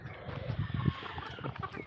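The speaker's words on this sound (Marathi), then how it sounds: "मस्त अशा कोंबड्या यायला लागल्या" Hens on a small farm clucking close by, a burst of several overlapping soft clucks and calls in a low, busy rhythm with light background noise.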